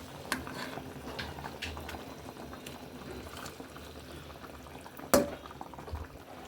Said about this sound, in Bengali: এই যে আমার তরকারি উতলে আসছে